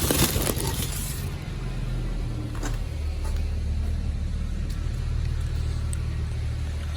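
Cars pulling out of a parking garage, a steady low engine rumble with rising revs echoing in the enclosed concrete space, continuous throughout with a few brief sharp clinks.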